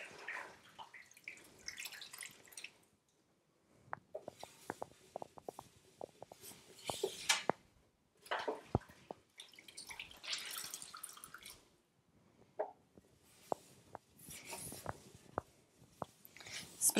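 Wet wiping and dripping water close by inside an oven cleaned with baking soda, with scattered drips, splashes and rubbing sounds in irregular bursts separated by brief quiet gaps.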